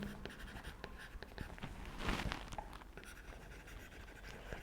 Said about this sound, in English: maybe I will just write here